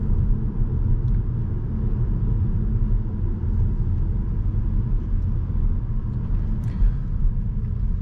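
A 2021 Škoda Octavia iV plug-in hybrid being driven, heard from inside as a steady low rumble of road and tyre noise that holds even for the whole stretch, with no talking.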